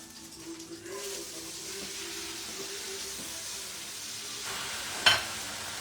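Butter and corn frying in a pan give off a quiet, even sizzle, with a short sharp clatter of a utensil near the end.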